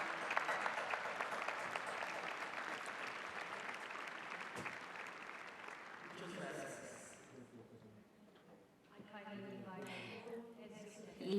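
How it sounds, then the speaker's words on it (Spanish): Audience at the Mondiacult 2022 opening ceremony applauds distinguished guests, sustained clapping that fades after several seconds as a voice begins speaking over the thinning sound. "Por favor, un aplauso para todos ellos."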